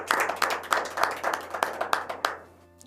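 An audience at a Hindi/Urdu poetry gathering applauds to welcome a poet, a fairly close, rhythmic round of clapping with sharp regular beats that fades out at the end.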